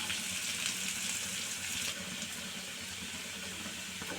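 Steady hiss of capsicum sautéing in a pan over a low flame, a continuous broadband sizzle with no talking.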